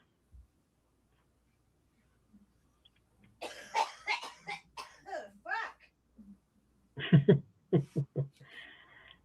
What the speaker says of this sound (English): Sounds like she's coughing up a lung.